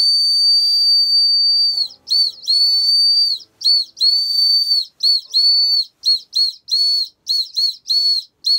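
A loud, piercing Tesla CyberWhistle, metal, blown forcefully, first in long blasts and then in a rapid series of short sharp toots.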